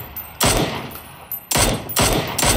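Gunfire in the battle royale game PUBG during a ranked match: three loud, close bursts of rapid shots, each a dense broadband crack sequence, separated by brief quieter gaps with faint background game noise.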